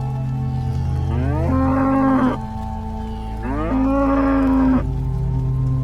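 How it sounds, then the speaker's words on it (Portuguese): A cow in a corral gives two long, loud, drawn-out moos of pain, each rising then holding, separated by a short pause, close by. "ouvimos um grande mugido de dor vindo do curral."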